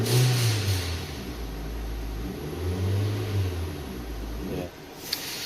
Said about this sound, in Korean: RPM 올려볼게요